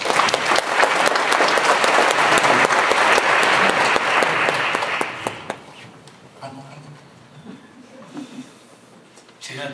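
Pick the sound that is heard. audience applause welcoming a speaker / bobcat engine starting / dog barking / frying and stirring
audience applause welcoming a speaker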